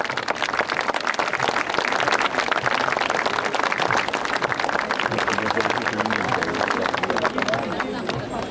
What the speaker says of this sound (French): Vos applaudissements pour Carnet de Bal de Paris.